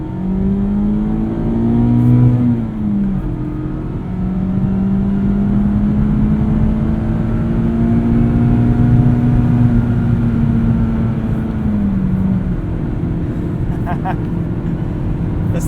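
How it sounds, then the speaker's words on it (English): 2021 Mazda MX-5 Miata RF Grand Touring engine revving, heard up close as a loud, steady drone that climbs in pitch early on and then holds a sustained high-revving note for most of the stretch. "All right, let's rev it out here."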